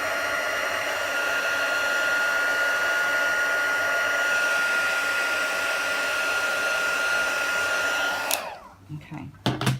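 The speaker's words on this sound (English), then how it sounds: "Okay, heat tool to the side, and you can see that it's embossed everywhere" An electric heat tool blows steadily and loudly while melting gold embossing powder, a constant whooshing hum that cuts off abruptly near the end, followed by a few soft handling sounds.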